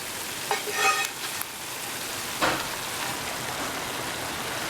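Backstrap venison and chorizo sizzle in a pan as they are stirred, a steady hiss of frying broken by a few scraping, clattering stirs near the start and again midway.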